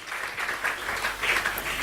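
Church congregation applauding during a French-language sermon, a continuous wash of many hands clapping at moderate volume, swelling slightly toward the end, with no talk over it.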